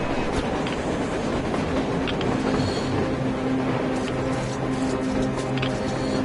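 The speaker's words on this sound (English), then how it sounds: "A train! A train! Look!" A train in the video game Metro Exodus approaches with a continuous loud rumbling roar and rattling wheels, steady throughout with no speech over it.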